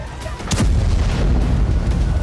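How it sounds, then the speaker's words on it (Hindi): Israeli airstrike bombing in Baalbek, Lebanon, produces a heavy, close blast followed by a sustained, rumbling roar of explosions that fills the whole stretch. "इजरायली फाइटर जेट्स ने बेका में भी भीषण बमबारी की।"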